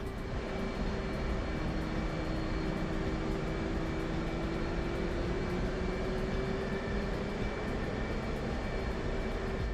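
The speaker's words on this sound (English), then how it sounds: "We'll hear the left engine start to spool up in the background, and we'll watch the engine RPM rise until it stabilizes" An F/A-18C jet engine in the DCS World flight simulator spools up during a cold start, a steady broadband roar with a faint rising tonal whine running continuously throughout at a moderate level.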